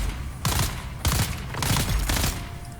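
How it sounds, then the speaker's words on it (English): Gunfire in the video game Dune Awakening: three loud bursts of rapid shots, each about half a second long, separated by brief pauses, close and sharp with no talk over them. "let's see if I can headshot this guy"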